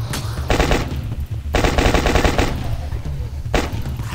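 Rapid automatic gunfire from The Last Stand: Union City video game comes in three loud bursts, a short one, a longer sustained stream and a final brief burst, with low game ambience between them and no talking.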